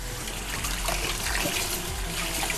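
Tap water runs steadily in a home kitchen as dough-covered hands are washed while making pişi, a close, even rushing splash with no pauses.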